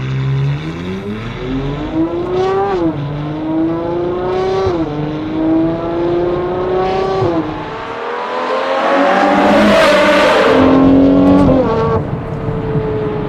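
Loud, throaty Ferrari Purosangue exhaust with a Novitec exhaust system in loud mode, revving and accelerating through gears, with rising and falling engine pitch and a roaring swell near the end.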